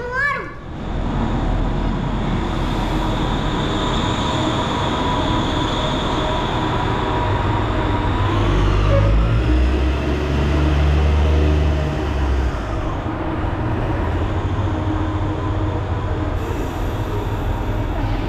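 A train in Padang rumbles steadily close by, with wheels squealing and metallic clatter, while faint voices and a child's speech are heard underneath.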